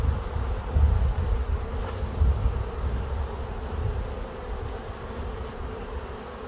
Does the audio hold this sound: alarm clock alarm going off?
no